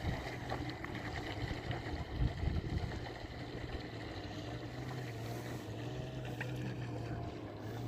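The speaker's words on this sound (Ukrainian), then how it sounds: "можемо натиснути кнопку зверху, відпускаємо, кораблик пливе, це круїз контроль" A radio-controlled bait boat for carrying fishing bait and tackle runs on the water, its small motor giving a steady low hum with faint splashing and light wind noise throughout.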